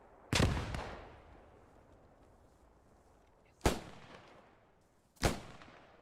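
Single gunshots in the war video game Post Scriptum, three separate loud cracks with echoing tails, spaced irregularly against a quiet ambient background, no voices.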